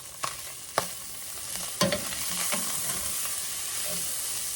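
Minced garlic sizzles steadily in a pot as it is stirred for a meat sauce, with a few sharp spoon scrapes early on over a continuous close frying hiss, no voices.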